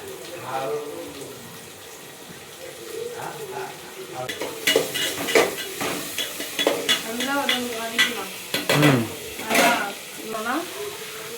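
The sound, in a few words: onions sautéing in a pan for fish curry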